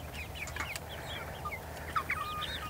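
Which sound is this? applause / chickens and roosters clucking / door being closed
chickens and roosters clucking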